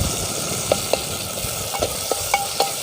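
Tomato fries in a clay pot for a soybean curry, giving a continuous close sizzle broken by sharp clicks and scrapes of a stirring spoon.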